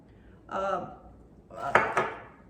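A pan is set down on a stovetop while olive oil is heated for ham and bean soup, giving a brief scrape followed by a couple of close metallic clanks.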